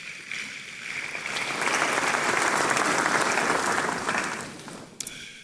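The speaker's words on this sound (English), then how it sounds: "Shall we do a big round of applause for that?" Audience applause at an honorific law school lecture, a sustained round of clapping from a crowd that swells in the middle, holds steady, then fades out near the end.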